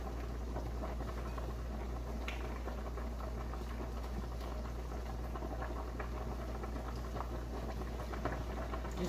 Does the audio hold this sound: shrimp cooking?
yes